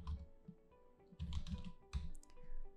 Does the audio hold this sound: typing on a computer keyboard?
yes